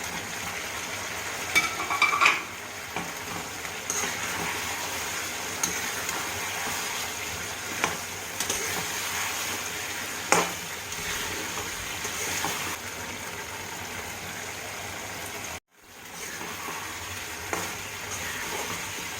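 Fried catla fish pieces sizzle in a pan with kasundi mustard sauce for mango kasundi catla, a steady oil hiss with occasional stirring scrapes and one brief dropout near the end, no talk.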